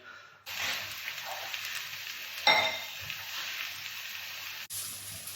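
Onions sizzling slowly in a pan for a sweetcorn and grain risotto: a steady, even hiss close by, with a sharper clink partway through and a brief break near the end.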